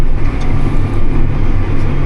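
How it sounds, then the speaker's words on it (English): A John Deere 561M round baler pulled by a tractor starts baling hay again, giving a loud, steady low mechanical drone with no speech. "Let off the brake and we're back baling."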